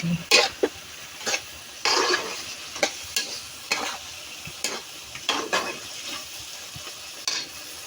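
Chicken meat being sautéed with seasonings and soy sauce in a pan: a low sizzle broken by repeated sharp scraping and stirring strokes, close and uneven in rhythm, with no talking.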